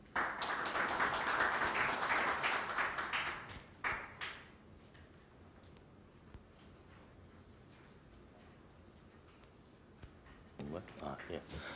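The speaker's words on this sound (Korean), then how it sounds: "전체 사회를 맡으신 전성현 교수님께 큰 박수 부탁드리겠습니다" A round of applause from a debate-forum audience swells loudly for about four seconds, then thins into scattered faint claps and room noise before rising again briefly at the end.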